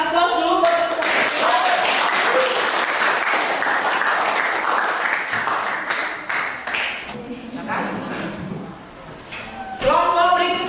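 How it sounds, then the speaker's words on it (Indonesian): A classroom audience applauds a presenting group of teachers, several seconds of steady, dense clapping with voices speaking at the start and end. "kita beri aplaus dulu buat"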